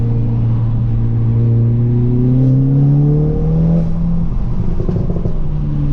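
Stage 3, 400 bhp Audi S1 engine revving hard on an open road, rising through the revs with a steady loud drone, then crackling pops and bangs from the exhaust near the end.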